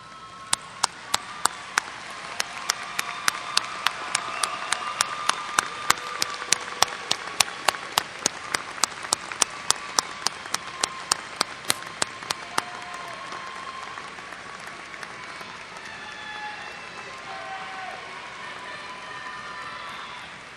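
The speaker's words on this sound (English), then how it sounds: "stand, turn, and applaud those today who helped you attain your education" Graduates at a 2004 graduation ceremony applaud those who helped them: a long, dense spread of clapping from a large crowd, with sharp individual claps standing out in the first half before the applause thins slightly.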